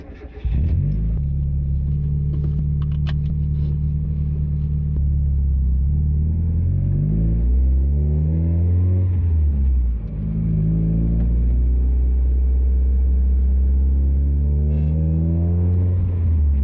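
A Mazda MX-5 cruises at around 40 mph on a road, the steady engine drone rising and falling through gear changes, close and continuous with a low rumble throughout.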